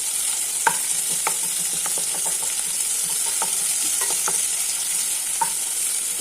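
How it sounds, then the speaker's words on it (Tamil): Onions sauté in a pan with a steady, close sizzle, and a spatula now and then clinks and scrapes as they are stirred, with no voices. "இப்போ இதை வந்துட்டு நல்லா லேசாக வதக்கி விட்டுக்கோங்க"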